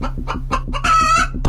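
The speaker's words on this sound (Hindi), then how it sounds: "ये तो मुर्गा है" A rooster in an animated scene gives several rhythmic clucks, then breaks into a loud, drawn-out crow close by, with no talking over it.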